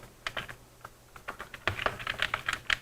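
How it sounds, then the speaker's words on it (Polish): Someone types an email on a computer keyboard: close, irregular bursts of light key clicks with short pauses, ending in a quicker flurry of taps. No speech. "Wpisuję imię, nazwisko nauczyciela."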